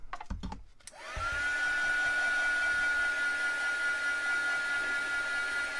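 A hair dryer switches on after a few brief knocks and runs steadily with a loud, even whir and a fixed tonal whine, drying paint on a model house up close.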